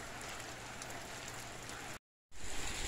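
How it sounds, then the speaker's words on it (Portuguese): Heavy rain falls in a steady, constant hiss, fairly quiet, briefly cutting to silence before the downpour resumes. "Tá chovendo muito aqui, ó. Chuva demais."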